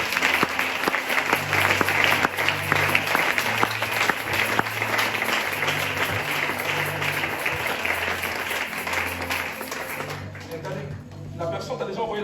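A church congregation claps along during a charismatic worship service, steady sustained applause filling the room beneath continuous amplified preaching and music, with a low hum throughout.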